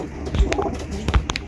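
Soft cooing of racing pigeons at a home loft, with a couple of low coos and short wing or perch knocks, close by and brief.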